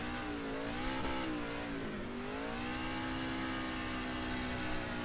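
An S3 race truck's engine revs up steadily as it pulls away at Darlington, the pitch sweeping through harmonics, loud and close throughout with no talking.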